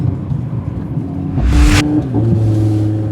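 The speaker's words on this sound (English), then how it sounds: "these pops are nuts" A VW Golf R tuned to APR Stage 3+ rumbles at idle, then lets out a loud, close exhaust crackle near the middle before its engine drone settles back to a steady hum.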